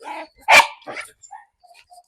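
A single sharp bark from a leash-reactive dog, close and loud, followed by softer yips and whimpers.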